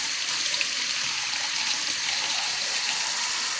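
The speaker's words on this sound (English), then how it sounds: "I'll rinse it out with the water." Running water rinses debris and dog hair out of a freezer drain, a steady close hiss of flowing tap water with no pauses.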